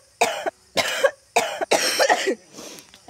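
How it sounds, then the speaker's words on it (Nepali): Several harsh coughs burst out in quick succession, close and fairly loud, brought on by fumes from chili peppers being fried in a home kitchen; short gaps separate the first fits before a longer, rougher run trails off. "खोकी आउँछ"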